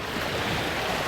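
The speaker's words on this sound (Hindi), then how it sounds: "समुद्र के शोर को एंजॉय करें" Sea waves wash against the shore at dusk, a steady broadband roar with no distinct breaks, loud and continuous, mixed with wind noise and no speech.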